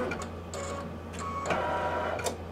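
An embroidery machine stitching a beginner Kimberbell Christmas nativity ornament gives soft, close mechanical needle clatter with a few brief bursts, heard alone.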